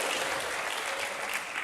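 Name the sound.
congregation applause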